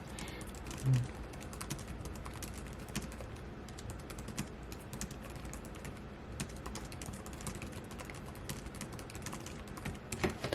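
Steady, rapid typing on a Lenovo ThinkPad X1 Carbon Gen 9 laptop keyboard, keys clicking close up in a continuous run with no talking.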